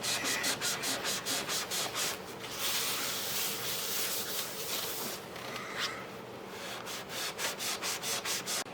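A 1979 Bally Star Trek pinball playfield being scrubbed, with rhythmic back-and-forth rubbing strokes, fast and close at first, then a smoother continuous rub before quick strokes resume.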